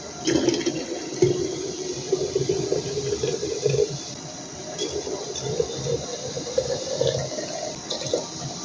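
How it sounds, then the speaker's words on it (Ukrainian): Sugar syrup is poured into three-litre jars of red sweet cherries for a winter compote, making a continuous close gurgling, splashing pour that rises slightly in pitch as the jar fills, with no talk. "Заливаємо вдруге вже не кип'ятком, а сиропом з цукром."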